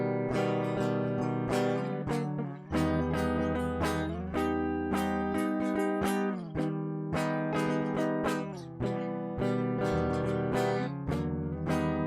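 Inside rhythm chords strummed on the bottom four strings of a guitar, a steady run of bright, close chord hits with ringing sustain and brief pauses between changes, no voices.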